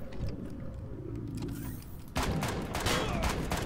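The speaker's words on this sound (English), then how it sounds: "I like how the shotguns actually kind of act like shotguns." Shotgun gunfire in Empyrion: Galactic Survival, a steady wash of game combat noise that jumps into louder, denser blasts partway through, with repeated sharp reports crowding together near the end.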